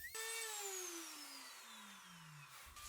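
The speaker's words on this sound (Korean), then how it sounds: "드레멜에 스폰지 사포를 장착해서 면을 다듬어 줍니다." A Dremel rotary tool fitted with a sponge sanding pad whines at high pitch, smoothing a 3D-pen sculpture, its tone slowly sinking as it slows under load, then cutting off near the end.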